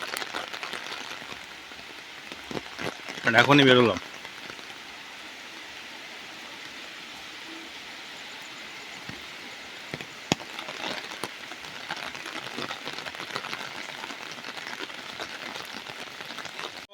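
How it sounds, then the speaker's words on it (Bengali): Heavy rain pours down steadily in a continuous hiss. A person speaks one brief line early on, and the downpour keeps going underneath. "মুষলধারে বৃষ্টি হচ্ছে, এটা কন্টিনিউ হয়েই যাচ্ছে।"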